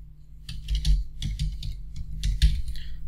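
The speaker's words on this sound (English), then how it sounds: "So I'm typing my email and password." Quick, light clicks of typing on a laptop keyboard come in uneven bursts, close and fairly quiet.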